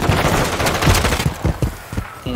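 Rapid automatic gunfire in Call of Duty Warzone, loud, dense bursts of shots with a quick irregular rhythm, easing slightly toward the end.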